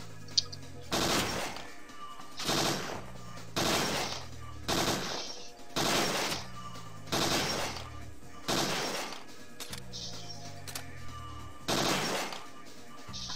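Gunfire rings out at a shooting gallery in Parasite Eve 2 as a steady series of about eight loud, sharp shots, roughly one every one and a half seconds, each followed by a short ringing tail and faint talk.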